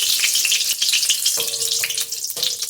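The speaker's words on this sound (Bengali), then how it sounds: "লঙ্কাটা ভাজা হয়ে গেছে" Green chillies fry in hot oil in a wok, giving a steady, loud sizzle with crackling spatter that runs throughout, broken by brief stirring scrapes.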